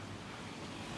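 Ocean surf washes steadily onto a clean beach, a continuous broadband rush of waves with some wind noise and no distinct breaks.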